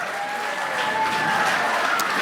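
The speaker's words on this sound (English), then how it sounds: "give them a big round of applause" A crowd at a FUSE event applauds the winning Black team, a dense, continuous wash of clapping with some cheering voices mixed in, loud and sustained.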